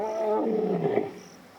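A young male lion roaring in unfamiliar territory in Nakuru National Park, Kenya: one deep, sustained roar falling in pitch and fading out, heard alone and fairly close.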